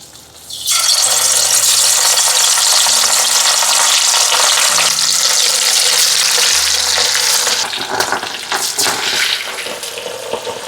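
Shrimp drop into hot oil for deep frying, setting off a sudden loud sizzle that roars steadily before bubbling and crackling more unevenly near the end.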